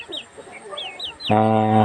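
Farm chickens kept for sale cluck in short, close bursts, followed by a steady droning hum that takes over near the end.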